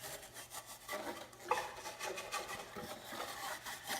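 A plastic Silverado/Sierra headlight housing being scuffed by hand, soft repeated rubbing and rasping strokes in an uneven rhythm, close and quiet, with no talking.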